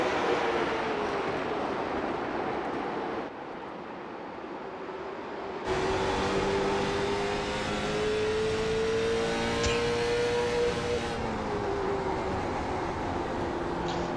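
A late model race car engine roars steadily at speed around the Thompson track, its pitch rising and falling through the corners as it holds a consistent line, loud and continuous with no talking.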